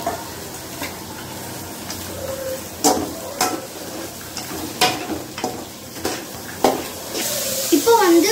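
Green peas tipped into vegetables frying in a pan for children's noodles, giving sizzling and stirring with scattered clatters and scrapes, close and moderately loud.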